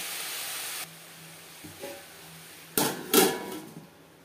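A metal lid goes onto a pan of long beans cooking with bottle gourd peel over a low gas flame: a steady hiss cuts off, followed by a few soft knocks and then two sharp, close clanks of the lid settling.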